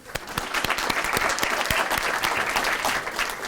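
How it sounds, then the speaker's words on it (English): A crowd at a scholarship anniversary event applauds steadily and loudly, dense clapping with a few sharp individual claps standing out, sustained throughout. "Let's have a round of applause for all the speakers we had already."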